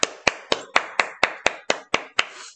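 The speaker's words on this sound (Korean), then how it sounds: "박수, 박수." A single person claps ten sharp, evenly spaced times in a quiet classroom, each crisp slap standing alone with a brief ring after it.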